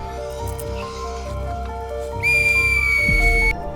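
A whistle blown hard gives one loud, piercing sustained tone that cuts in sharply and stops, over a dramatic musical background.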